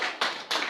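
A church congregation applauding during a Wednesday service, two short bursts of clapping in quick succession, close and fairly loud.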